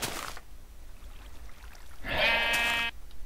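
Minecraft sheep bleat once, a loud, clear, wavering baa in the game, preceded by a brief burst of noise and otherwise quiet background.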